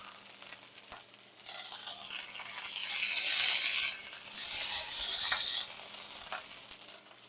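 A steak frying in a hot pan gives a steady broadband sizzle that swells louder through the middle, with occasional scraping clicks from stirring or moving the meat; no one speaks.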